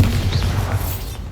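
Spell blasts from Bombarda, the explosion spell in Hogwarts Legacy, come as a dense low rumble with soft booming thuds that carry all the way through, loud and close, alongside a whooshing magical swirl.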